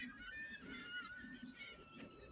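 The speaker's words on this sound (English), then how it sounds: "You can hear the seagulls?" Seagulls calling at a beach, a few faint, far-off squawking cries in quick succession over soft background noise.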